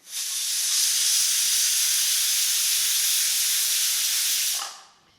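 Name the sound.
pressure cooker whistle while cooking fenugreek rice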